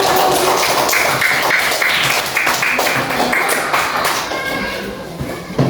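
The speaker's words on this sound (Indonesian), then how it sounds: "Tepuk tangan untuk si Abdul." Pupils in a classroom clap for a classmate, a loud, dense patter of many hands close by with voices mixed in throughout.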